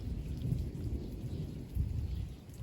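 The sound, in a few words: thunder clap at end of thunderstorm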